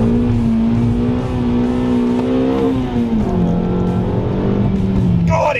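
Toyota Altezza RS200, a rear-wheel drive car, revving hard with a loud engine tone that climbs and then settles lower during a spirited drive, heard from inside.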